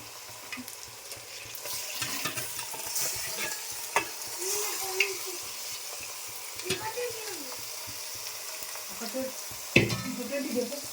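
Mixed vegetable pieces fry with hot onions in a pan, an ongoing sizzle with scattered spatula scrapes and clanks against the pan, a sharp knock near the end, and faint voices in the background at times.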